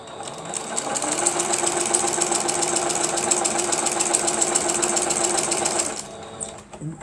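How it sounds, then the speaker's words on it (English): Sewing machine stitching fabric, a loud close mechanical whir with a rapid even rhythm that runs steadily for about six seconds, then stops, leaving a few faint handling noises. "But you can tell how hard it is to sew it"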